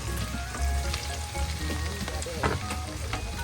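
Bagoong shrimp paste sautéing in a pan with a steady, dense sizzle and a few scraping stirs, close and fairly loud with no one talking.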